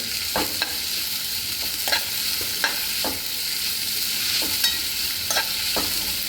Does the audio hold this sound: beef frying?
yes